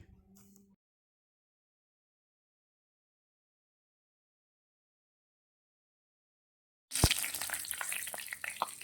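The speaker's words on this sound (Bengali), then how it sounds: "মাছগুলো ওঠানোর পর এখন ওই তেলে দিয়ে দিব তেজপাতা গোটা জিরে ও কালো জিরে" Bay leaf, whole cumin and black cumin hit hot oil left from frying shrimp, bursting into a sudden loud crackling sizzle after a long silence, the spattering continuing steadily to the end.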